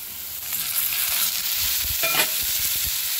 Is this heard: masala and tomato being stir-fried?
yes